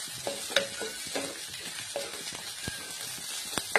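Onion, ginger and crushed garlic fry together in a pan for chicken, a steady soft sizzle with a few light spatula taps and stirs, no talking.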